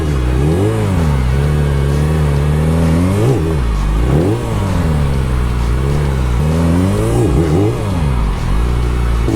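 A Harley Davidson Sportster engine revving hard during clutch bumps while learning circle wheelies, heard close and loud: repeated surges that climb and drop in pitch over a constant heavy rumble.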